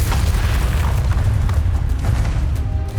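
A Bombarda explosion spell in Hogwarts Legacy, heard as a dense, sustained booming rumble with heavy low-end energy that stays loud throughout and shows no clear separate blasts.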